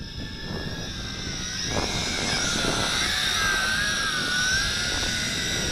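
A Tarantula X6 quadcopter drone with brushed motors flies gently on its first flight, giving a steady high-pitched buzzing whine that rises and wavers as the rotors change speed, alone without talk.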